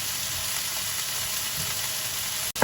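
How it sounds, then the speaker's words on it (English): Sliced mushrooms browning in a hot pan, with a steady close sizzle and crackle of frying, a brief clunk near the end and no voices. "you can see that it's starting to brown up around the corners, and this is when you know that the mushrooms are starting to get properly cooked"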